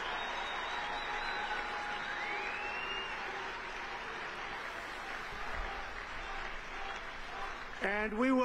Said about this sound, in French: T'écoutes la foule crier, là.